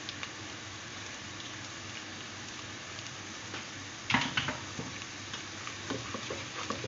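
Three medium onions browning in a pan for kofta curry, giving a steady low sizzle and crackle throughout, with a brief louder burst of spattering and stirring midway before settling back to an even fry.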